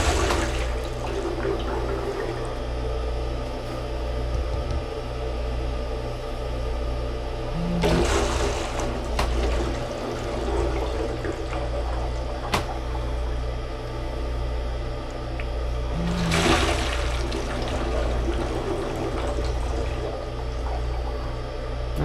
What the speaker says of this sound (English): Just hit normal flush.